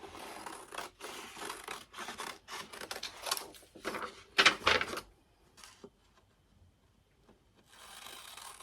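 Scissors snip and slide through paper pattern pieces for a bag, a run of close, crisp cutting strokes with paper rustling, then a quiet pause before rustling resumes.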